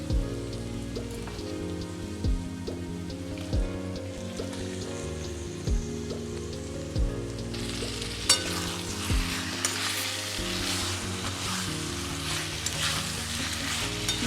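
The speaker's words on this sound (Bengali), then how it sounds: "মশলার সঙ্গে সমস্ত চিংড়ি মাছটা আমি মিশিয়ে নেব।" Prawns rubbed with salt and turmeric sizzle loudly in a pan of cooked-down spice paste as they are stirred in, with a steady hiss broken by periodic scraping strokes, under background music.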